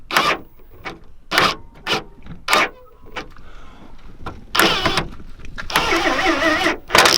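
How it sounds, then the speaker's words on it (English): A rattle gun fires in short, loud buzzing bursts while tightening bolts on an Audi boot lock mechanism, repeated several times close up, ending in a longer sustained run. "you can finish it off with the rattle gun"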